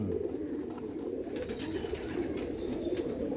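Madrasi pigeons, a Kaldam Madras pair of tournament quality, coo softly and steadily over a low murmur of background noise.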